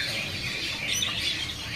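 A Plecimontanus bird chirps continuously in a bird shop kiosk, bright high twittering calls repeating close by over a steady background hum.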